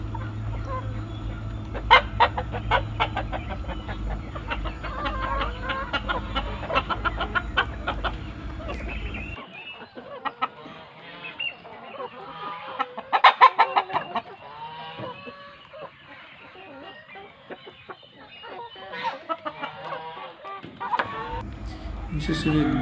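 Barred Plymouth Rock breeder chickens, a brown-egg heritage breed, cluck and call in a pen, close and fairly loud, steady throughout with a low engine-like hum in the first part and someone talking over them.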